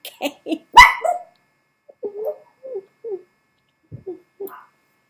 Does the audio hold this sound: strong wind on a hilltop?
no